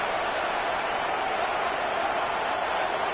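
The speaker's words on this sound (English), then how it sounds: "The crowd at Arrowhead roaring." Roaring football stadium crowd at Arrowhead during an NFL game, a dense, loud, unbroken wash of cheering noise with no distinct voices.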